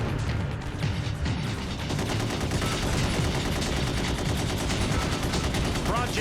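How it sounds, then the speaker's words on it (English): Missiles and weapons firing in the combat video game Gun Metal, a dense, continuous barrage of rapid blasts and explosions, loud and unbroken throughout, with a brief whooshing sweep near the end. "I don't think I meant to fire that many missiles."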